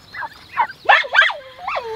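Turkeys being herded call out in a series of short, rising gobbling bursts, several in a row over about two seconds, fairly close and alone with no talking over them.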